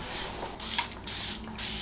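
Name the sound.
spray bottle spraying hair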